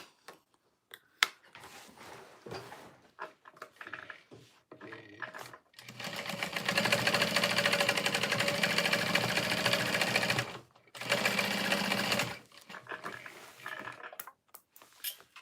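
A sewing machine top stitches a tote bag in two steady, loud runs of rapid whirring, separated by a short pause and framed by scattered handling clicks and rustles.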